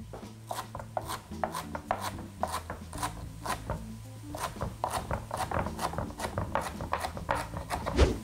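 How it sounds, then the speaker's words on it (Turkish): A knife chops fresh dill on a cutting board, a steady rapid series of soft close thuds and rasping cuts, quiet and continuous without talk. "Hemen dereotunu doğrayacağım ve üstüne süsleyeceğim."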